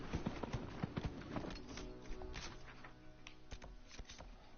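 Horse hooves clip-clop in Dragon Age Inquisition, a quick, irregular patter of soft thuds that is busier at first and then thins, heard over low game ambience.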